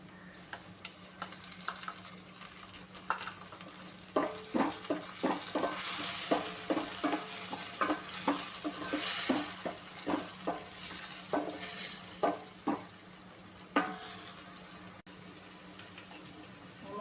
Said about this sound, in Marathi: कांदा परतून झालेला आहे त्यामध्ये आता आपण हे हिरवे वाटण केलेले ते परतून घेऊया